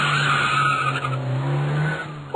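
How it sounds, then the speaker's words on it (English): A NASCAR race car skids at speed, with a loud, sustained tire squeal over a droning engine for a couple of seconds, close and with no other sounds. "as fast as a car in a NASCAR race."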